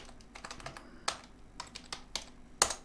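Typing on a computer keyboard, a quick irregular run of close key clicks with short pauses and a sharper final keystroke.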